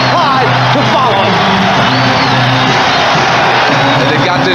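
Portland Trail Blazers fans fill a basketball arena with loud, sustained cheering and whooping during an NBA Finals game, a dense roaring crowd across the whole stretch with a commentator's voice faintly woven in.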